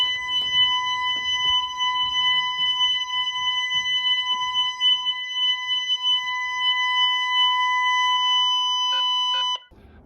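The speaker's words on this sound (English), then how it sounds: "if somebody tries to break the glass, it sets off an annoying loud sound" A home glass-break alarm sounds during a test, a loud, piercing steady electronic tone that holds unbroken for about nine seconds, then pulses briefly before cutting off abruptly.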